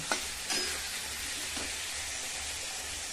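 Chicken fries in hot oil with a steady, hissing sizzle, broken by a few sharper crackles and pops.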